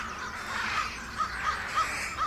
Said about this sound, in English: She knows what happens when a lot of crows gather.